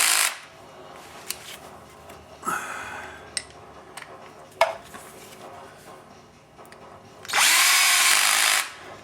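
A DeWalt 14.4 volt cordless drill drives Subaru oil pan bolts, with scattered metallic clinks and taps, then one loud, sustained whirring burst near the end.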